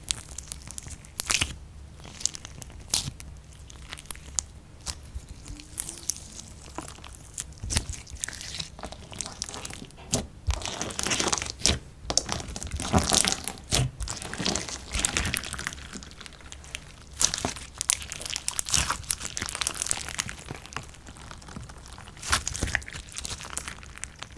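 Crunchy activated slime from a small slime shop being squeezed and pressed close up, giving dense bursts of crackling, popping crunches in irregular clusters with quieter squishy gaps between them.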